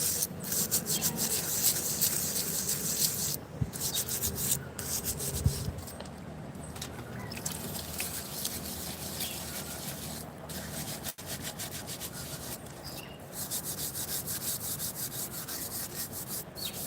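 Scrubbing with a scrubber while washing: continuous close rasping and rubbing strokes, steady and fairly quiet, with a few brief pauses and knocks along the way.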